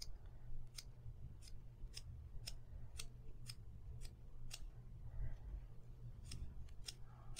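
Scissors snip through a synthetic craft pompom in a steady run of crisp, close cuts, roughly a dozen evenly spaced snips over a low background hum.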